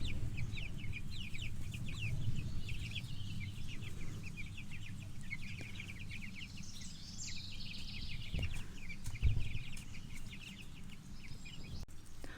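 Pastured meat chickens in Vermont cluck and chirp continuously while they move in a tractor pen on grass, a busy flock heard close up with scattered rustles and soft knocks.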